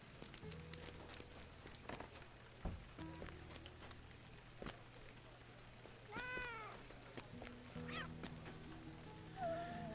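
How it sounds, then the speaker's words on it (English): Meows from a cat in the online game Lord of the Rings Online, a couple of short in-game mews over quiet ambient game background with faint thuds and footsteps. "And another kitty."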